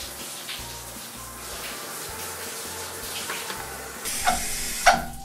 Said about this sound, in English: Now I'll rinse him off.